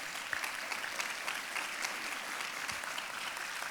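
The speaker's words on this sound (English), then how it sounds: "I think they deserve a big round of applause." Steady applause from a luncheon audience at a women's empowerment panel in Edinburg, clapping for the panelists, a dense even patter sustained throughout at moderate distance with no talk.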